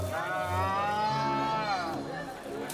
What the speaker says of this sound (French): Attachées à des poteaux, les vaches meuglent et se débattent.